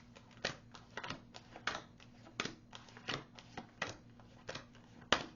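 Tarot cards are shuffled close by at low volume, giving a run of soft, irregular riffling taps and slaps with no talking.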